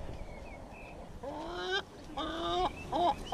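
A bird in Rome gives a few loud, clucking, fowl-like calls in short bursts, close by, over a quiet outdoor background.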